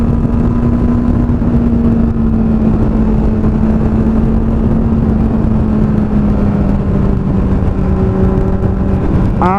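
Kawasaki Z800 800 cc motorcycle accelerating, a loud steady engine drone held near the microphone that climbs in pitch at the very end, with no talking.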